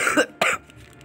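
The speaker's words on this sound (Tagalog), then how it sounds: "may ubo pala ako no" Two sharp, close coughs in quick succession from a man with a cough, loud and dry, followed by a quiet room tone.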